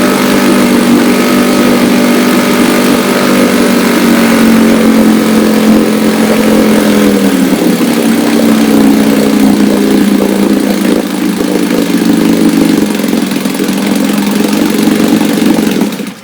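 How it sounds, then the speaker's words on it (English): Restored 1962 Johnson Seahorse 3 hp outboard motor running steadily, a loud close buzzing drone with an even rhythm whose pitch dips slightly midway, continuing alone for about sixteen seconds before cutting off. "this 1962 Johnson Seahorse 3 horsepower"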